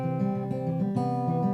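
Fingerstyle acoustic guitar playing a song intro, thumb and fingers plucking a steady rolling Travis-style pattern of ringing notes, close and continuous with no talking.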